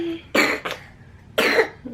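A young boy coughs twice, close and fairly loud, with brief throat sounds between the bursts and no talking.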